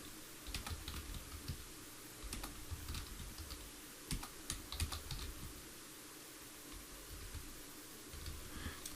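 Someone types on a computer keyboard in quick irregular bursts of close, crisp key clicks with short pauses between them.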